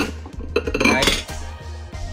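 Ceramic bowls clink and clatter against one another as they are handled in a condo kitchen in Bangkok, a run of close, bright knocks and chinks over a low steady hum.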